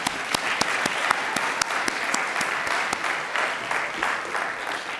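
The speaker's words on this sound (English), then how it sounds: "applaud them" An audience at a campus talk applauds the Hunger Office staff, sustained, full applause with sharp individual claps standing out near the front, steady for the whole stretch.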